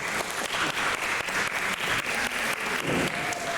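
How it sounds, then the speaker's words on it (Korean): A congregation at a Korean church's Sunday worship service in Berlin applauds steadily throughout, the many hand claps blending into a full, continuous wash with a faint beat running through it. "우리 박수 한번 부탁하겠습니다."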